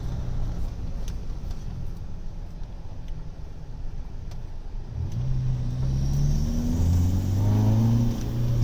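A Mitsubishi Triton pickup with a Prospeed Black 7900 engine box and short SCV accelerates, a steady road rumble swelling into a rising engine drone in the second half, loud and close.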